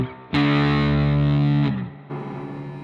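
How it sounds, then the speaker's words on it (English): A fuzz-drenched electric guitar chord through a Tony D Classic 70's Fuzz pedal rings out thick and sustained, then a second, quieter chord is struck and decays. "you can actually hear the fuzz and the crunch, and then it decays into more of a simple distortion"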